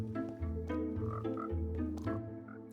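Frogs croaking in the video game Minecraft, near a Happy Ghast greenhouse; loud, close, rhythmic croaks repeating about every half second, with no talk.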